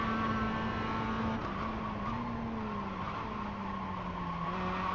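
Tires squealing on an MX-5 Cup race car during oversteer at Summit Point in iRacing, a sustained wavering screech over a steady engine drone, heard in-car and fairly constant throughout.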